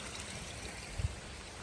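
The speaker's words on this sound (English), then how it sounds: "A little running water here." Small stream of running water beside an uphill nature trail, a soft continuous trickle and burble heard faintly from nearby, with a brief low bump partway through.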